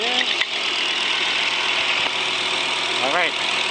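A Volvo 850 engine idles steadily as it warms up after an oil pan O-ring replacement, giving a loud, constant mechanical drone. A brief voice-like sound rises near the end.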